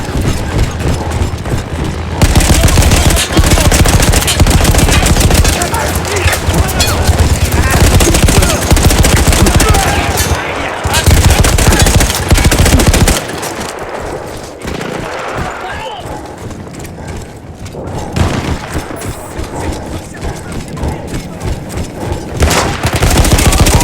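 A mounted machine gun in Battlefield 1 on the Italian front, firing long loud sustained bursts amid battlefield noise, with quieter pauses and someone narrating over much of it.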